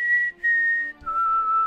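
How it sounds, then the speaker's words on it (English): A clear human whistle holding a steady tone, then briefly breaking and dropping to a lower sustained pitch, close and fairly loud with no talking. "you nailed that whistle"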